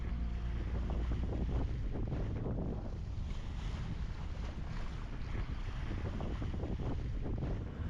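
Steady wind rush and water washing past a sailboat's hull as it sets off from the Isle of Rona in Scotland, with constant low rumble throughout; no voices.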